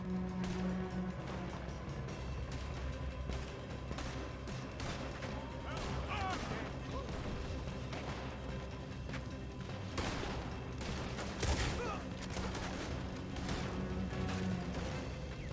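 Red Dead Redemption II shootout, with repeated gunshots and rifle cracks scattered across a dense, continuous battle din, mid-distance and mixed with shouting voices and clatter.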